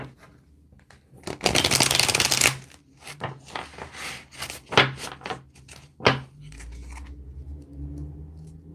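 Playing cards are shuffled up close: one long riffling burst, then a series of shorter snaps and taps as the deck is handled.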